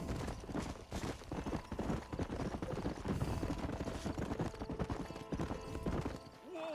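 Hooves clip-clop at a gallop across open ground as a horse runs in the video game Red Dead Redemption on Xbox 360, a steady, fairly loud drumming that carries throughout with an occasional whinny and a brief voice near the end.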